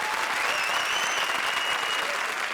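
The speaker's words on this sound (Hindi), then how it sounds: "जोरदार तालियां।" A studio audience at a comedy show breaks into loud, steady applause, a dense wash of many hands clapping with faint crowd murmur underneath, continuous for the whole short stretch.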